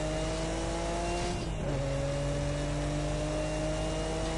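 A Nissan Skyline R34 GT-R SMS-R laps the Nordschleife with a loud, close engine drone, a brief dip and pitch drop from a gearshift around midway, then a steady harmonic roar holding on.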